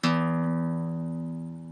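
A single guitar chord with a changed bass note rings out once, struck sharply and left to sustain and slowly fade.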